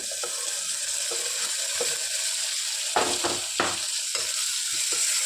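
Four small cut tomatoes hit a hot pan on high flame, setting off a steady loud sizzle and frying hiss with a few sharper stirring bursts near the end, no voices.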